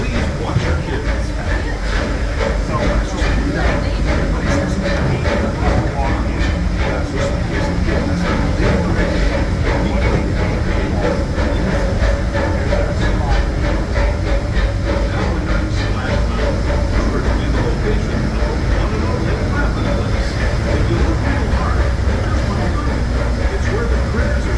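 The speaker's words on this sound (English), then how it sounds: "welcome aboard the Disneyland Railroad" A Disneyland Railroad steam train, the Holiday 5 Blue pulled by the C.K. Holliday locomotive, rides along the track with a constant loud rumble, rattling clatter and hiss that persist throughout, while a voice is faintly mixed in.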